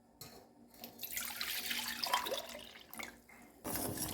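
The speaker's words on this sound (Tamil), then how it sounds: "இப்படி கமுத்தினோம்னா தண்ணி பூரா சொம்பில் போயிடும்." Tender coconut water poured from a coconut into a metal vessel for payasam, a close, splashing trickle that swells and fades in bursts with brief pauses between.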